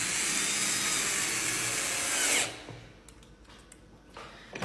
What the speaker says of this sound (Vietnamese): Rất đơn giản là chúng ta sẽ có 4 con ốc bắn lại 4 điểm.